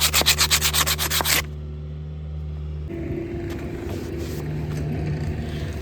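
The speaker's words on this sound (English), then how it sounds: "Go ahead and sand this down a little bit so we can pull this off easier." Sanding on the steel shaft of a 40-plus-year-old hammermill being rebuilt: a loud, rhythmic back-and-forth rasp of about ten quick strokes, then a low steady hum of machinery, with no talk.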